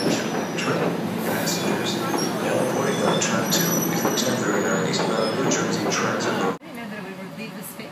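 A double-decker passenger train passes close by on the Northeast Corridor, a loud, sustained roar of rolling wheels with clicks and squeals that drops off abruptly near the end, leaving quieter rumble.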